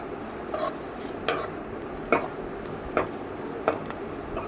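Salted onions sautéing in a pan, a low sizzle under five or six crisp spoon scrapes against the metal at roughly even intervals, close and fairly quiet, no voices.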